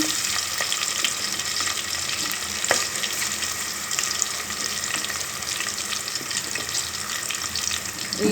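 Goat head curry frying with softened onions in a pan, a steady close sizzle with occasional stirring scrapes running throughout, no talk over it.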